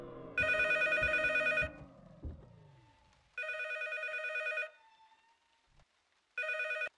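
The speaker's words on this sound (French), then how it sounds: "Y a le téléphone qui sonne!" A telephone rings in the P.T. remake horror game, three loud bursts of electronic bell trills separated by pauses, with low thuds and rumble before the first ring.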